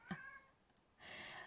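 A cat meows twice, a short chirping call and then a longer drawn-out meow, fairly faint and close with no talk.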